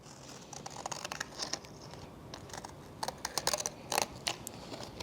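Scissors snipping paper shapes up close, with a quiet, irregular run of small cuts and crisp clicks over faint room noise and no speech.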